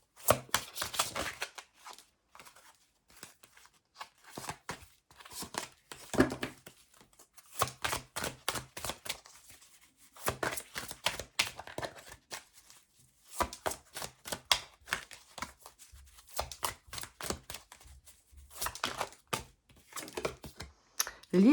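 Oracle cards shuffled by hand: a long run of dense, crisp riffling and slapping bursts that start and stop in repeated spells, close and fairly quiet, with no talking.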